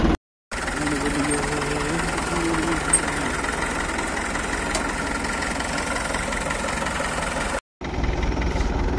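A Massey Ferguson 9500 Smart tractor pulling a loaded trolley runs with a steady, vibrating diesel drone, broken briefly by dropouts at the start and near the end.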